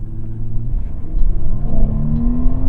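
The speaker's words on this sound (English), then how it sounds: "How good can this car do 0 to 100? So ready? 1, 2, 3, and launch." A car launches and accelerates hard from a standstill toward 100, its engine note climbing steadily in a loud, continuous rumble with the rising whine of the drivetrain beneath it.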